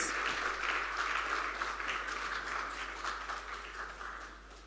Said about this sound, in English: let's clap our hands as Nenyasha comes to speak to us